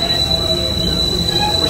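Subway train wheels squeal in a tunnel under the Hudson River. The piercing metallic screech is sustained and loud over the rumble of the railcar, close and continuous throughout.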